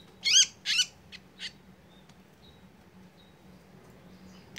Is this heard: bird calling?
yes